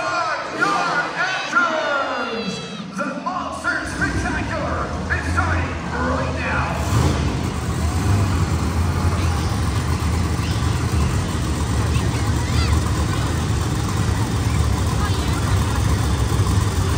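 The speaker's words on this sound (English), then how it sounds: "Hear the supercharger." A Monster Jam monster truck engine revs up in an arena, a loud sustained roar with a steady supercharger whine carried over a crowd; voices shout a countdown early on before the engine noise takes over.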